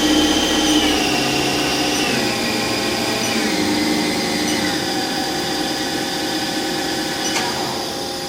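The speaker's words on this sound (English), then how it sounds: "You're at 2500 RPMs right now. I'll slowly back that down." A Haas SL-20T CNC turning center spindle with live tools winds down from 2500 RPM, a loud steady whine whose tones gradually drop in pitch over several seconds.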